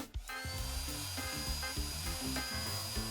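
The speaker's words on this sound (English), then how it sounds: "Now I'm first starting the grind with a power drill, so that way I can remove a lot of material." A power drill spinning to lap a 3D-printed metal gas engine part with lapping compound: a close, steady motor whine with a gritty grinding rub that pulses as the part is worked.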